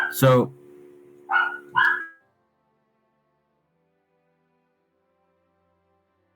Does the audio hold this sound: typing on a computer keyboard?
no